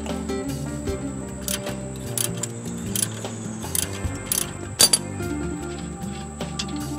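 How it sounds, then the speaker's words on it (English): Metallic clinks and short clanks come from a wrench breaking loose the caliper mount bolts on the axle housing of a 1987 Toyota 4Runner, scattered irregularly over a steady background hum. "here I'm just breaking loose the bolts that hold the caliper mount to the axle"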